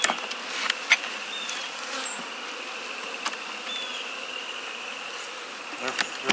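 Honey bees buzzing in an opened spring beehive colony, a dense continuous hum with individual bees flying close past now and then.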